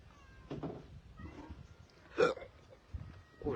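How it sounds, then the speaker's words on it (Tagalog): A man hiccups outdoors on open farmland, one sharp, loud hiccup standing out near the middle, with softer catches of breath and light background noise around it. "Naku, sinisinok pa ako."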